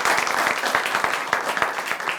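Audience applause, dense and steady clapping from a crowd that carries on without a break for the whole stretch, fairly loud and close.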